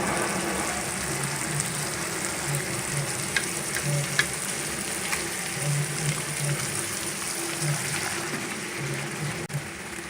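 Chicken pieces frying in a cooked masala for Hyderabadi masala chicken, a steady close sizzle and crackle running throughout with occasional stirring clinks and low burbling underneath, no voices.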